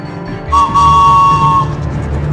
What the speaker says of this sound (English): Spencer could hear a whistle in the distance.